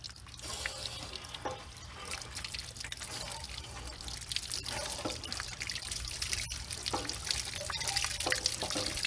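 Water jet blasting into an RV water heater tank to flush out sediment, a steady splashing, trickling rush with irregular drips and spatters throughout, fairly close and continuous.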